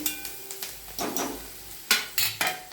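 Onion sautés in a pan until browned, giving a soft sizzle broken by a series of sharp spoon knocks and scrapes against the metal, close and fairly quiet, with no voices.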